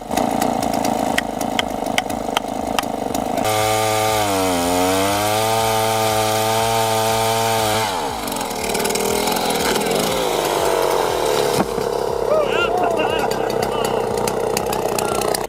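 A freshly rebuilt Stihl 090 AV chainsaw with a 4-foot bar cuts into a massive oak root ball, its engine holding a steady, loud drone that sags and wavers under load before shifting into rougher cutting noise.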